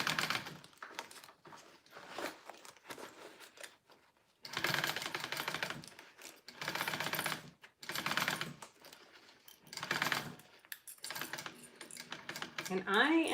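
A home sewing machine stitches a 1/4 inch seam on a fabric sling with a D-ring, running in several short bursts separated by pauses, close and fairly loud.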